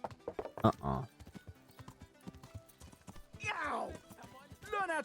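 Horse hooves clip-clop in a rhythmic run, mixed with a whinny, shouting voices and busy scene noise in a lively setting.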